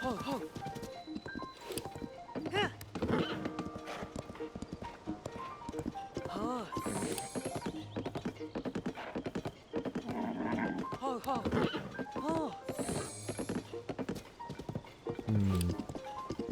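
Horse hooves clip-clop rhythmically in Zelda: Tears of the Kingdom, with an occasional whinny under the game music. A player talks over the hoofbeats.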